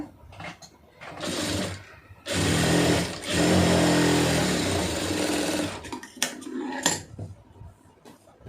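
A sewing machine stitches the lining of a blouse in bursts, running steadily for a few seconds between short pauses, close and fairly loud, with light handling clatter around it.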